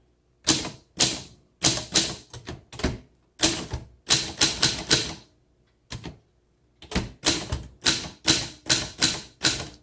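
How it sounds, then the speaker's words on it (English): A 1960 Adler Primus portable typewriter being typed on, giving crisp, loud keystrikes in quick clusters, with short pauses between bursts and no talking. "And this is considered a portable typewriter."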